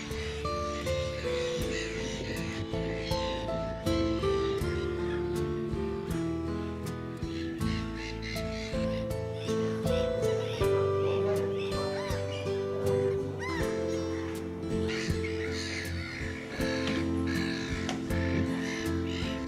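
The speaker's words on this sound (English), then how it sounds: "hundreds of noisy black-headed gulls are at the height of their breeding season" Hundreds of black-headed gulls at a breeding colony on a large expanse of water, a dense, loud, continuous chorus of harsh overlapping calls and squawks close by.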